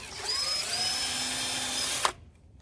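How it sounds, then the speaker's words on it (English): A power drill whines at high speed as it pre-drills a short pilot hole for a screw in wood while winterizing a chicken coop, one continuous run that stops abruptly, leaving quiet room tone. "I'm going to pre-drill just a little ways here"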